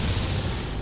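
A deep, booming bomb explosion in the video game Torchlight 2, a brief, heavy low rumble heard close and alone.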